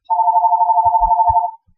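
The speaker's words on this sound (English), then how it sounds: "And my phone's ringing now." A phone ringing once, a steady warbling electronic tone lasting about a second and a half, close and clear, with a few soft low thumps beneath it and no talk.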